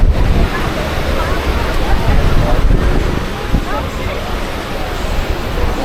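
Waves wash up a beach at high tide at Jurerê, Florianópolis, a steady loud broadband surf rush with swells and wind noise across the whole stretch.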